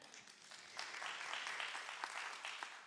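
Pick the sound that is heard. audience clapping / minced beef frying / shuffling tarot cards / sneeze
audience clapping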